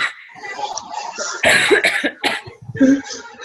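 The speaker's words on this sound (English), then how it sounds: "I'm so sorry about the coughing" Several harsh coughs burst out in quick succession, loud and close, with brief breaths and throat noises between them.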